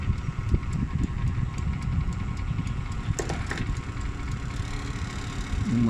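An electric oven's convection fan motor runs with a steady low hum and whir, close and continuous, with a few faint clicks and no talking over it.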